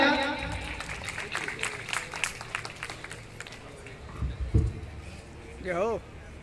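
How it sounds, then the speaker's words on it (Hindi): People at a community festival celebrating Lord Sahastrabahu's birth anniversary in Biaora clap loudly at first, the applause tapering off over several seconds as voices and other crowd sounds take over. "एक बार जोरदार तालियां।"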